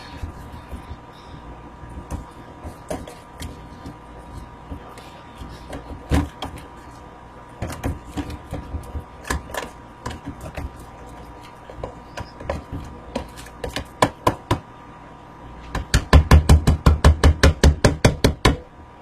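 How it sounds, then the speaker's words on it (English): A whisk beats coleslaw dressing in a bowl with sharp rhythmic clicks and taps, sparse at first and then a fast, loud burst of strokes near the end. "And then we grab a whisk and whisk this."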